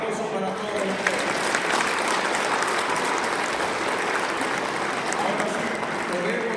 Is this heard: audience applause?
yes